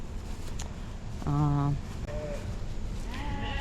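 Sheep bleat out on a pasture, one clear quavering call rising above a steady outdoor wind-like background, with fainter bleats following later.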